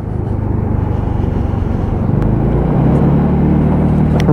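An AJS Modena motorcycle rides on a road toward a roundabout, its engine a steady, loud, close droning rumble that swells slightly as it goes.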